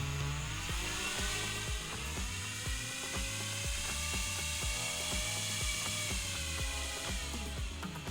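A homemade big fan spinning a normal propeller roars with a loud, steady whir and buzz. A rhythmic rattling knock runs beneath it throughout.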